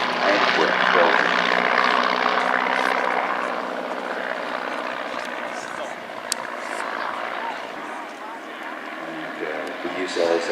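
A 1930s two-seat training and touring propeller aircraft from Stampe et Vertongen of Antwerp, Belgium, used as an aerobatic trainer, drones steadily overhead at an air festival, loud and sustained, slowly fading a little before swelling again.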